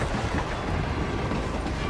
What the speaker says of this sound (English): How long is this train?